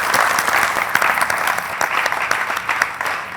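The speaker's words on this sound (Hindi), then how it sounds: "उसके लिए जोरदार तालियां।" Loud studio audience applause on a TV game show, with dense, lively clapping and some sharper individual claps standing out. It continues steadily before tapering slightly.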